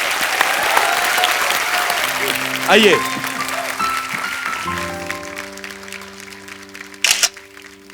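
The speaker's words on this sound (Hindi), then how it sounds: "जोरदार तालियां" Loud studio audience applause on a Hindi comedy talk show, dense continuous clapping mixed with cheering and a host's voice speaking over it, swelling again briefly near the end.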